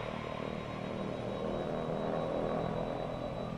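Embraer EMB-110 Bandeirante turboprop engines in a flight simulator hold a steady, droning hum with a faint high whine. The sound is moderately quiet and continuous, with no talk.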